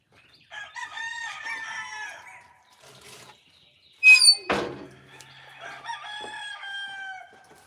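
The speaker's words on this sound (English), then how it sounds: "why them chickens is so worked up?" Rooster crowing loudly and close at a Mississippi homestead, with chickens clucking and chattering before and after, plus a brief thunk near the crow; no talking.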